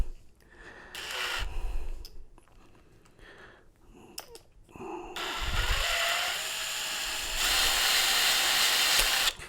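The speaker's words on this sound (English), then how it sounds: "We're going to put it in the tool and put the drill in reverse" A power drill fitted with a rivet gun attachment whirs in reverse in several short bursts, then runs continuously with a high, loud whine, with some handling clatter between bursts.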